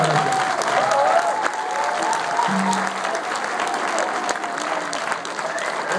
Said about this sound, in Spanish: Gracias por esos aplausos tan emotivos